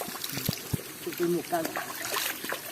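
Spring water trickling from a spout in a protected forest nature reserve, a soft continuous dribble beneath nearby voices talking over it.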